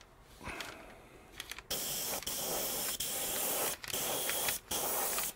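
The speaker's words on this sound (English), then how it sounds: "let's clear coat the long hood and the nose." Clear coat sprayed from an airbrush onto an Atlas HO scale SD35 model locomotive, heard as loud, steady hissing in long bursts broken by brief pauses, after a quieter start.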